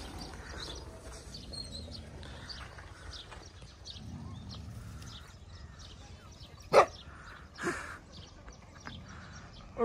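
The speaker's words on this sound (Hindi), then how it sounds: "ओ कुत्ता देख, कुत्ता उधर से भौंक रहा है।" A dog barks a few times from a distance on a rural farm with cows, short sharp yelps standing out over a steady background of outdoor noise, animal movement and faint clopping.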